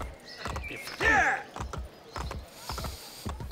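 Hooves clip-clop at a walking pace from a horse in Assassin's Creed Brotherhood, with a sharp whinny near the one-second mark and a few scattered mechanical clicks alongside the steady footfalls.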